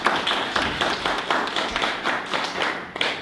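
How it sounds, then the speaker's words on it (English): Audience applause closes a speaker's talk at a social media meetup. It comes as a series of sharp, fairly close claps with a loose rhythm, sparse rather than a dense wash. "Let's give Brandon Chesnutt a big round of applause."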